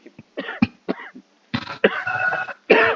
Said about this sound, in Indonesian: ada batuk dikit